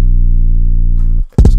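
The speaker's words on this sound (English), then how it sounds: "It's an 808." A deep 808 kick booms as one long, sustained low tone, loud and close, then cuts off abruptly into a short burst of choppy noise.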